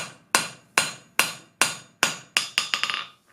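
Air-powered rivet tool forging a divot into metal, eight sharp ringing hammer strikes at a steady pace, close and clear, ending in a quick rattling flurry of lighter blows.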